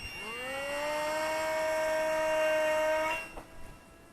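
A MinimumRC Micro Spitfire warbird RC plane's small electric motor whines steadily at about half throttle during a hand launch, holding a sustained tone before cutting out abruptly near the end.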